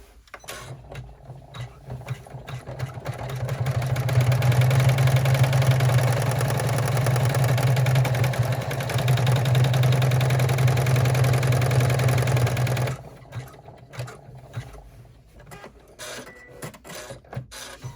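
An embroidery machine stitches the tack-down line on a bag flap held in its hoop. A rapid, steady mechanical buzz runs for about nine seconds, preceded and followed by quieter clicks and handling noises.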